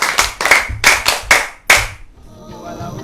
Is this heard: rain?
no